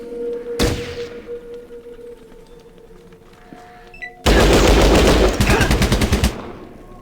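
Enemy gunfire in the Fallout Tactics video game: a single sharp shot early, a quiet stretch, then a loud sustained burst of rapid automatic fire lasting about two seconds.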